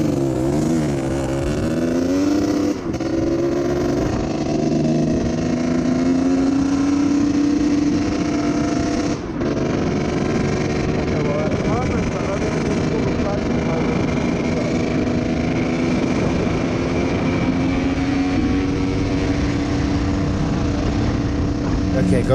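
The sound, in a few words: Kawasaki KDX 125 two-stroke dirt bike engine four-stroking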